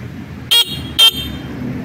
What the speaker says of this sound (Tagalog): Matinis ang kanyang busina.